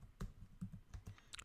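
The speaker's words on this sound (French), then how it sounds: "Et là, on tape notre mot." A few soft, quiet keystrokes tap on a computer keyboard in an irregular rhythm while a short word is typed, with no talking.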